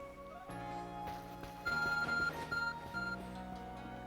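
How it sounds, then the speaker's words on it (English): The ARC phone in the video game Pokemon Legends Arceus gives off repeated electronic beeping tones over a soft game music bed, with short chimes recurring every half second or so. "Our ARC phone is beeping."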